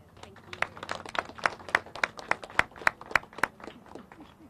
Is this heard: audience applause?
yes